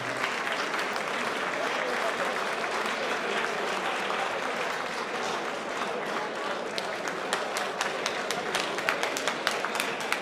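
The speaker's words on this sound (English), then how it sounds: "if we can applaud him as he walks on stage, I'll appreciate it" An indoor conference audience applauds steadily as a guest walks onto the stage, a dense, even wash of clapping that holds for about ten seconds with some scattered louder claps near the end.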